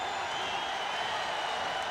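A basketball arena crowd at the 1991 NBA Finals in Los Angeles sends up a steady, dense roar of cheering and murmur, broad and distant-sounding, with no single voice standing out.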